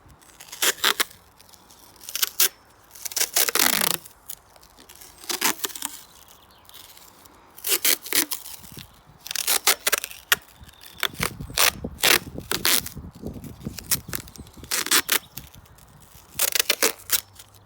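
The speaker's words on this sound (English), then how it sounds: "All we're going to do now is just tape off the ends" Tape being pulled and torn off a roll to cover the ends of mini poly tunnel hoop tubes: repeated loud, close ripping and stretching bursts with rustling between them, steady and rhythmic, with no talking.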